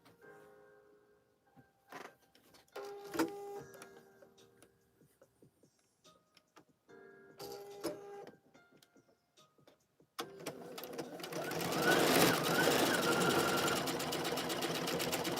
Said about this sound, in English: Stitch front facings together, leaving an opening at the large dot.